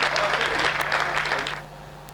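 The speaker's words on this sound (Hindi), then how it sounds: "आप जोरदार तालियों से उनका सम्मान करें।" An audience at a Hindi comic poetry gathering claps loudly and steadily for a poet from Rajasthan, the applause tapering off near the end over a low electrical hum.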